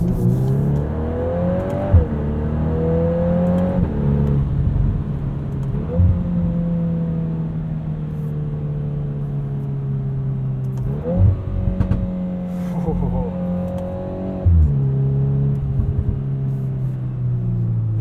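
2022 Volkswagen Golf R with DSG gearbox accelerating through several quick gear changes, engine note rising then dropping at each shift, heard steadily from inside the cabin with no talking.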